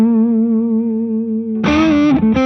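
Electric guitar with a high-output Bare Knuckle Riff Raff bridge pickup played through a Nobels ODR-1 overdrive pedal: a sustained, buzzy distorted note rings out, then a louder, brighter chord is struck near the end.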